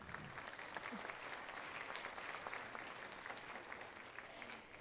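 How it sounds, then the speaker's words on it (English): A crowd applauds steadily for several seconds at a kindergarten orientation, dense clapping at an even level from start to finish. "a round of applause if you're ready for spring"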